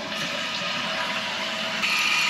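A toilet tank refills after its water valve is turned on, a steady hissing rush of water flowing in continuously, close and unbroken, with no talk.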